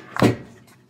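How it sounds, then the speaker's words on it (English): The front door of a Whirlpool dryer, model WED5100HW, comes off with a single close, sharp clunk that fades out quickly in a quiet room. "So it's disconnected, so the door just comes right off"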